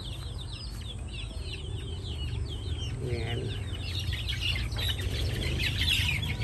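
Chickens cluck and chirp steadily at a backyard feeding, with light bird calls mixed in and a voice speaking briefly over the flock.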